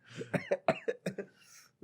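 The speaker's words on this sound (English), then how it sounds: "That was like a laugh cough." A burst of several quick, close coughs in a choppy rhythm, almost laugh-like, with a brief throaty rasp trailing at the end.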